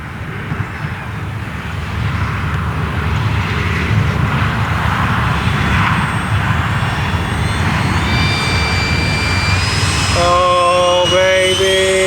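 A radio-controlled EDF jet model aircraft on a slow pass at a flying field, a loud steady whine and rushing roar sustained throughout, with rising whistling tones near the end as it passes close.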